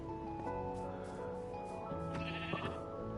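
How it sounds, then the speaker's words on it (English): Sheep bleating in a video game, several wavering cries from more than one animal overlapping, fairly close, over a low ambient background. "I've got sheep."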